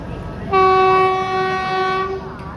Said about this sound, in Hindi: सामने से केरला त्रिवेंद्रम सुपरफास्ट एक्सप्रेस भी आ रही है